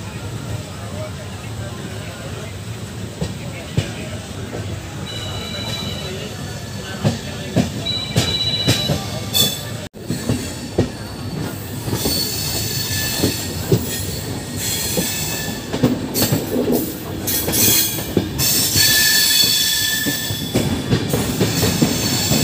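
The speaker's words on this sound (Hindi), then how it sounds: "दोस्तों ट्रेन मल्हौर निकल रही है।" The Godda Weekly Express from Gomtinagar passes through Malhaur with a loud, continuous rail rumble, rhythmic clickety-clack and occasional squealing wheels, while voices are heard faintly underneath.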